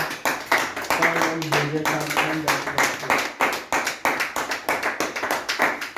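A church congregation claps hard in a fast, steady rhythm, loud and close, with voices calling out beneath the clapping during a deliverance service.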